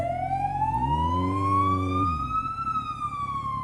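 A police car siren wailing loud and close, its rising and falling tone sweeping steadily while a motorcycle rumble sits low beneath it for a stretch in the middle.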